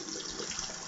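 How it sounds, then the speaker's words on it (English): A small trickle of water runs from a tap: a brief, soft, steady hiss of flow heard alone at low volume. "A little bit of water."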